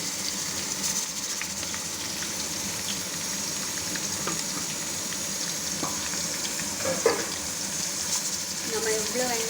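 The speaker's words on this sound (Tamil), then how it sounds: "வெங்காயம் வந்து நல்லா கோல்டன் ப்ரௌனாக ஆகிற அளவுக்கு நல்லா வதக்கிக்கணும்" Sliced onions sauté in a pan for mutton dum biryani, a steady close sizzle and frying hiss with occasional stirring scrapes, continuous throughout.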